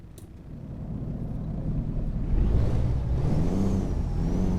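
Cummins diesel engine in a Freightliner Argosy truck mod for American Truck Simulator, a steady low rumble that swells as the truck revs and pulls away, a rising whine climbing through the middle, loud and continuous with no talking.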